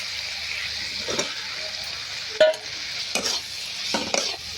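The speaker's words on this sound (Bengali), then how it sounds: "সোয়াবিনটা আলুতে কষে নেব" Soybean chunks and potatoes are stir-fried in spices, giving a soft sizzle with a few scraping stirs and a sharp clink of a utensil against the pan.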